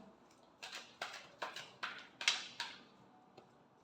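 Tarot cards being shuffled by hand, a series of six or seven soft riffling bursts in an even rhythm, close and quiet, with nothing else heard around them.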